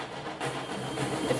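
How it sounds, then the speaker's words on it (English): Constant train engine layer from the game Unrailed, a steady low rumbling hum with broadband noise, even and moderately quiet throughout with no voices. "We have a constant train layer that sounds like this."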